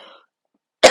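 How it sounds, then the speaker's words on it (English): A single sharp cough bursts out near the end after a moment of silence, loud and close, following a faint trailing bit at the start. "Sorry about the coughing"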